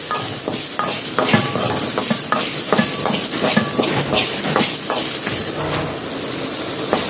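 Fenugreek and coriander seeds roast in a pan over a medium flame, with a steady loud sizzle and the constant scrape and rattle of stirring, close up and without talk.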